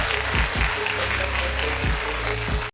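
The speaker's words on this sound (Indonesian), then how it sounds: "Kita beri tepuk tangan yang meriah untuk Deddy Mulyadi." A crowd at an Indonesian public gathering applauds in a brief, dense burst of clapping that cuts off abruptly at the end.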